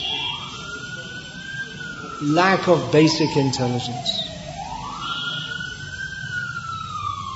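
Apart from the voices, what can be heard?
emergency vehicle siren passing outside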